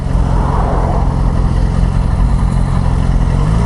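A Yamaha FZ6R sport motorcycle engine runs loud and close, a steady low idle rumble with a harmonic drone and no talking.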